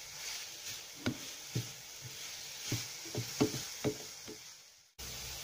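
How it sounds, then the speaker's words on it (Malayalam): Grated carrot drops into hot oil in a pan, giving a quiet steady sizzle with several soft scraping and stirring knocks, then a sudden cut partway through. "പാൻ ചൂടാക്കി കുറച്ച് ഓയിൽ ഒഴിച്ച് കൊടുക്കുക. ഇതിലേക്ക് ഗ്രേറ്റ് ചെയ്ത് വെച്ചിരിക്കുന്ന ക്യാരറ്റ് ഇട്ട് കൊടുക്കുക."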